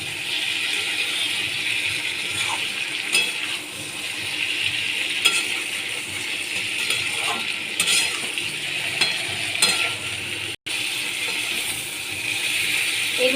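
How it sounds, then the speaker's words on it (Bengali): Cauliflower stir-fried in a pan for a Bengali rohu fish curry, with a steady close sizzle and scraping stir strokes throughout and a brief break near the end. "ফুলকপি দিয়েও আমি কিছুক্ষণ কষিয়ে নেবো"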